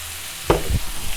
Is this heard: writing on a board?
no